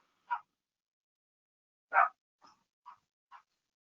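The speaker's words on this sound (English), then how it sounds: "I apologize if you hear barking." A few short dog barks, one then a louder bark followed by three quieter yips, spaced apart with silence between, fairly close.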